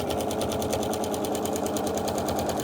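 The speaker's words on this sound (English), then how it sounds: "Then I'm going to start my line of stitching." A machine sewing a line of stitching through flannel on a memorial quilt, running steadily and close with a fast, even rapid-fire needle rhythm throughout, no talk.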